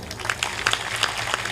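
Applause from listeners at a Hindi religious sermon by Asang Dev Ji, a short burst of scattered clapping with a few sharper claps standing out, moderate in level.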